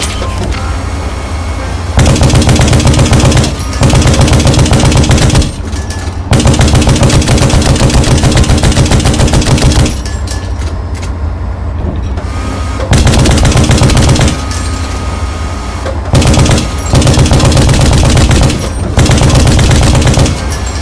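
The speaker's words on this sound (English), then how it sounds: "Let's start by using the coaxial machine gun on nearby enemies." A coaxial machine gun firing in the video game Hell Let Loose: Vietnam, very loud long automatic bursts separated by brief pauses, each burst a continuous heavy rattle.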